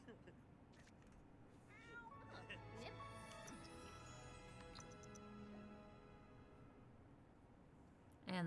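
A cat meows in The Sims 4, several short tonal mews rising and falling over quiet game ambience, with a voice briefly audible, before a sudden louder burst at the very end.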